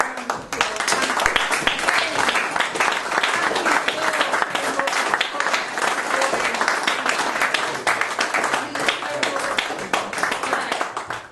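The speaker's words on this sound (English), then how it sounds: "can we give them all a big round of applause?" An audience at a comedy show in Manley gives a sustained round of applause, dense and steady clapping from many hands filling the whole stretch without pause.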